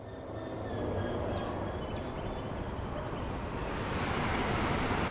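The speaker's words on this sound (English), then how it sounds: "Another Pendolino." A Pendolino train passes in Train Sim World 5, a steady broadband rumble and rush that swells from quiet to loud and holds, with faint high tonal whines from the rails above the roar.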